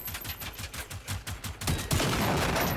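Rapid bursts of automatic gunfire in the video game Generation Zero, a string of sharp shots that turns into dense, continuous firing near the end.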